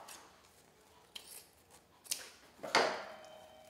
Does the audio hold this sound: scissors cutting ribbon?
yes